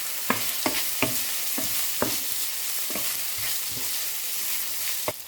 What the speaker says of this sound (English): we saute the garlic and onion. Once the onion is caramelized and the aroma comes out, we can mix the minced pork while stirring